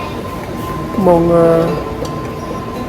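An electric metro train in Los Angeles rumbles past steadily. A short tonal squeal sounds mid-clip, and a voice speaks briefly.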